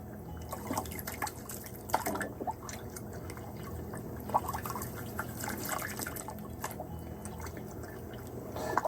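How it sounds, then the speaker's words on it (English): Water runs through a tilted gold sluice, washing Comstock Lode Chollar Mine ore. It makes a continuous close splashing and trickling with scattered drips and small surges, and no one speaks. "we're going to tilt this at a slight angle while we run water through it"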